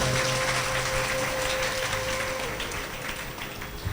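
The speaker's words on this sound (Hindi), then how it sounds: "तालियां जरूर बजाया करें" A crowd claps steadily in a dense, sustained round of applause, fairly loud throughout, with a faint tone humming underneath.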